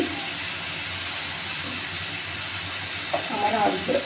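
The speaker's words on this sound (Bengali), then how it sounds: "আমি এদিক দিয়ে টমেটো ভর্তা করার জন্যে টমেটোগুলো তেলে ভাজতেছি।" Tomatoes frying in oil for tomato bharta give off a loud, continuous sizzling hiss close by, with a faint voice briefly at the end.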